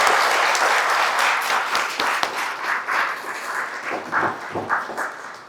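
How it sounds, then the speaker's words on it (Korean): A church congregation applauds graduates at a Sunday afternoon graduation service, with loud, dense clapping that starts strong and gradually thins out, with no talking over it. "다시 한번 우리 졸업생들을 위해 격려의 박수 부탁드리겠습니다"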